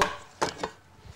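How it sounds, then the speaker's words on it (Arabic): Chocolate and berry cake batter stirred in a bowl, with two brief, soft scraping strokes close by and quiet, no voices. "نقلبه آخر مرة، نتأكد إن كل حاجة مخلوطة مع بعض كويس"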